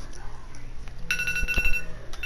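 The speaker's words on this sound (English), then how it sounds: "Dang it, that's my timer." A phone timer alarm goes off outdoors at a park, a bright electronic tone that starts abruptly about a second in and holds steady, sounding over background chatter and voices.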